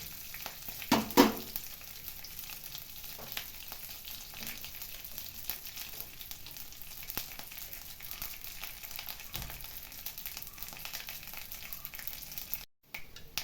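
Mustard seeds and rice fry in hot oil in a home kitchen, giving a faint, continuous sizzle with a few louder pops and crackles near the start.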